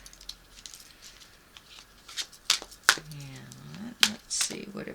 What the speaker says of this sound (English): I'm going to pull a couple of these beautiful chakra cards